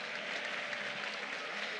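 An audience applauding in an arena at a FIRST robotics competition district event, a steady wash of clapping from a large crowd heard at moderate distance, unbroken and without voices on top.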